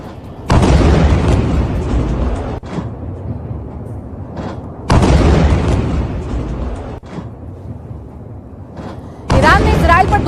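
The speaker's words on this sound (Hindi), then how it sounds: "कैसे आसमान में तेज धमाकों की आवाज सुनाई दे रही है" Iranian ballistic missiles striking Israel: two loud, deep booms a few seconds apart, each rolling on with a long rumbling tail, followed by another sudden burst at the end.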